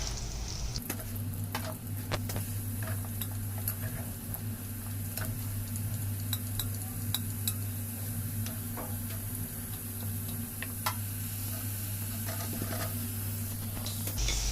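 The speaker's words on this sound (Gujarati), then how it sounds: "તો આપણે હવે ચિપ્સ તળાવવા આવી ગઈ છે" Sliced potato chips deep-frying in a pan of hot oil in a home kitchen, a steady, dense sizzle with scattered ticks and pops running throughout, close and even, with a low constant hum beneath and no talking.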